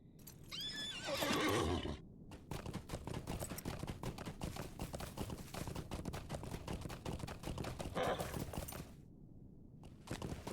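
In the Lord of the Rings Online game, a horse gives a loud whinny, then hooves clatter in a fast, steady rhythm, followed by a second shorter neigh and more hoofbeats, close and clear.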